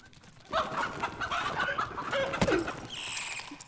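Chickens cluck and squawk loudly and close in the video game Dark and Darker, a busy run of excited clucks with a sharp squawk near the end and a burst of game noise.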